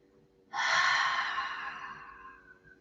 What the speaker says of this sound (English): open the mouth and see if you can let every last drop of air leave the